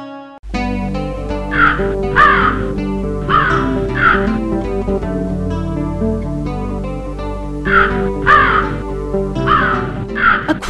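A crow in an animated fable caws repeatedly in loud bursts over a steady sustained musical background, the calls coming in spaced groups throughout.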